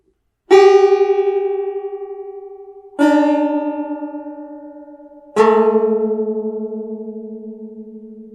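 Three plucked chords on a 14-string octavina with detuned strings ring out one after another, each bright attack decaying slowly with a shimmering, slightly beating tone, alone in silence.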